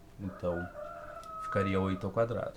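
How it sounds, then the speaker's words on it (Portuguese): Roosters crowing nearby, two long drawn-out crows with shorter calls following, loud and clear over a quiet background, with someone speaking briefly alongside. "E olha os galos cantando"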